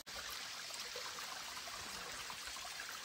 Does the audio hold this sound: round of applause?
no